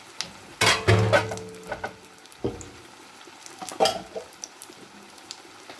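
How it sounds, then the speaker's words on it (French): Small cauliflower koftas frying in a pan, with soft sizzling under repeated stirring and a few clinks of utensil against metal, close and moderately loud. "je m'occupe de mes petits koftas qui vont pratiquement finir de cuire là"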